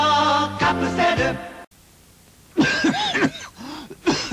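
Coughing in a Japanese TV commercial for Metron S cold medicine, a few harsh coughs and throat-clearing sounds up close, with a brief silence between and a voice and music around them.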